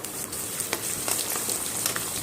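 Raisins and cashews fry in a hot pan, a steady close sizzle with occasional faint stirring ticks running throughout.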